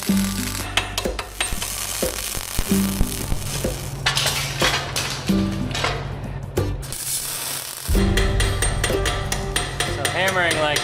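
Hammering on hot metal freshly welded with the welder cranked to its highest setting, struck to relieve stress: a steady run of sharp, ringing metallic blows close by over a constant humming drone, with a brief lull near the end.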